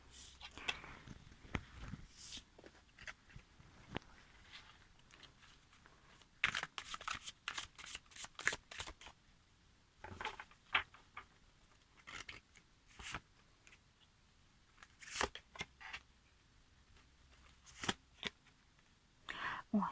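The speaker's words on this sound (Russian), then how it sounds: "Посыпались карты все." Tarot cards spill and are shuffled by hand, giving soft, irregular papery riffles and slaps in close, quiet bursts, with someone talking between them.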